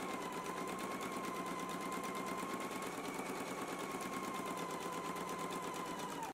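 A sewing machine runs continuously, stitching reinforcement along the seam line of a skirt front, its rapid needle chatter steady and close with no break until it stops at the very end.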